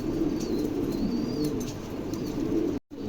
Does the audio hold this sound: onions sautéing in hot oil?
no